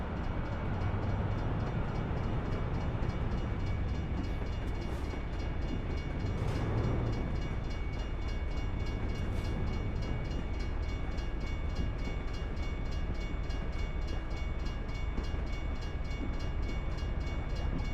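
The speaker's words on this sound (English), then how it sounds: "Train coming through." A freight train rolls past in American Truck Simulator, a loud, continuous rumbling rush of rail cars that holds steady throughout, with a faint horn-like tone early on and no talking.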